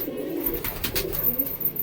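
Pigeons indoors in a loft, soft low cooing repeated through the short span over faint background noise, no voices.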